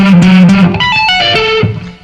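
Electric guitar plays a rock lick with tapping, pull-offs and string skipping, a fast run of distinct notes, loud and close, with slight distortion and no talk.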